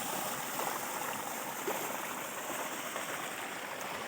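A waterfall-fed stream rushes steadily in a green valley in Azad Kashmir, a constant broad roar of flowing water with no pauses.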